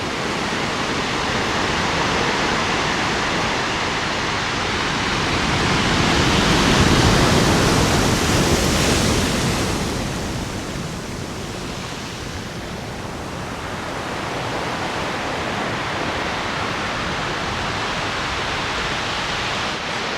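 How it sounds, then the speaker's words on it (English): Steady rushing wash of sea waves drawing back over beach stones on the Welsh coast, swelling and receding slowly in a long hiss, close and continuous with no voices. "The noise the water makes when it comes back off the stones."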